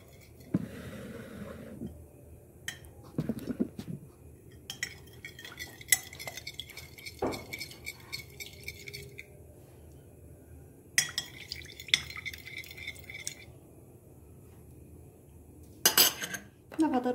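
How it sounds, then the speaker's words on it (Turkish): A spoon clinks and scrapes in a bowl while vinegar and a pinch of salt are stirred into the baklava dough mixture, with scattered metallic clinks and scraping bursts spread across the stretch, some louder knocks near the end. "Bunları güzelce karıştıralım."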